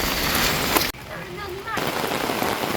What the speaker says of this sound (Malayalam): പക്ഷെ നല്ല മഴ പെയ്യുന്നുണ്ട്